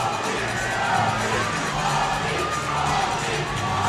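Hockey arena crowd roaring and shouting at a Prowlers versus Sentinels game, a loud, dense, continuous wall of cheering voices that holds steady throughout.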